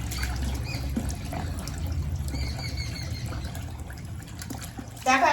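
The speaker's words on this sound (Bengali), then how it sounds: "এই যে এখন খালি একদম ফাইনাল ধুয়ে নেওয়া হচ্ছে" Fish gets a final rinse under running water, a soft trickling and splashing stream close by, with a brief louder gush at the end.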